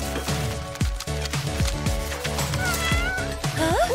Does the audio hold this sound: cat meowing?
yes